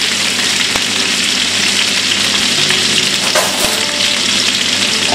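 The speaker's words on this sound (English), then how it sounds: "And saute in the salmon" Salmon sautéing in a hot pan gives a loud, steady sizzle and crackle throughout, with a few faint utensil scrapes and no talking.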